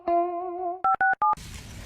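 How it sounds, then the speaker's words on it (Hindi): A phone call being placed: a long steady dial tone followed by three short electronic keypad beeps in quick succession, then a soft hiss, all close and clear with no voices. "साले को फोन लगा के देखता हूँ कहाँ गायब हुआ तो"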